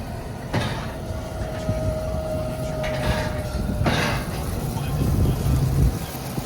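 A farm tractor shifts hay bales with a frame mounted on its front, its engine a steady, close mechanical rumble with a thin whine that holds and then cuts off partway through.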